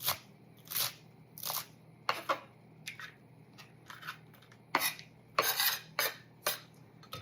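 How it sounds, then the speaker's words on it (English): Turkey and sweet potato chili vegetables being chopped with a knife on a board give sharp, uneven knocks, about a dozen over several seconds, each crisp and close, with no voices. "Chop that up."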